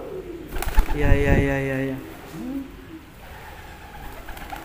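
A caged competition songbird gives a burst of clear, harmonic calling up close, then quieter chirps, with a man's short spoken reply.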